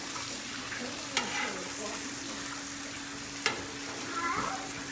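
Steak and butter sizzling on a Blackstone griddle, a steady close-up hiss with two sharp metallic clicks and a spatula scraping near the end.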